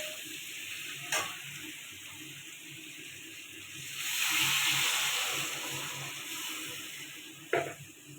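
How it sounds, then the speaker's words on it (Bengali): Papaya and potato fish curry in a pan after water is added to the sautéed vegetables, giving a soft steady sizzle that swells into a louder hiss, with two sharp utensil clinks against the pan, close and fairly quiet, without speech. "এবার জল দিয়ে দেবো।"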